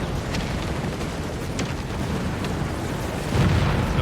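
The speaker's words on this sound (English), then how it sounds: "Aerial bombardment incoming. Take cover." Aerial bombardment in Company of Heroes 3 during the Battle of El Alamein, North Africa, with a rumbling wash of explosions and scattered sharp cracks, swelling into a heavier, nearer blast near the end; no voices.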